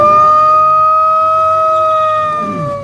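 A Mexican clay whistle shaped like a wolf, a kind of ocarina, blown to imitate a wolf howl. It gives one loud, steady, pure tone with bright harmonics that sags slightly in pitch and fades near the end, heard alone.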